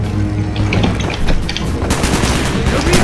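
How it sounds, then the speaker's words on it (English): Loud, continuous gunfire fills the scene in Call of Duty Black Ops as a lock is shot out, with dense rapid bursts and booms layered over battle noise. "Shoot the lock, Mason!"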